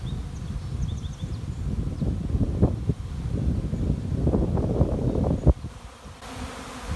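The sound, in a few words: honeybee swarm flying in the wind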